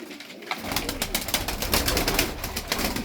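Boz duman tumbler pigeons cooing close by, soft repeated throaty coos in a continuous rolling series with no talk.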